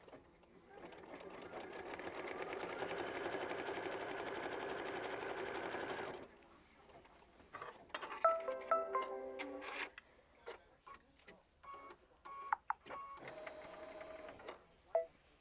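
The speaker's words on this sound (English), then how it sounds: "we're going to sew machine stitch step 22, which is just going to tack it down" Sewing machine stitching to tack down a flower bouquet quilt block, a steady close-up whirring run for several seconds, then scattered clicks and short handling sounds as it stops.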